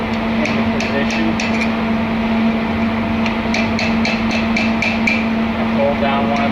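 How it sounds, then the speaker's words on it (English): A locking nut on a 125 HP pump seal is tapped into position with quick clusters of light metallic hammer taps in two bursts, over a steady machinery hum, with someone talking nearby. "We're going to tap the locking nut into position"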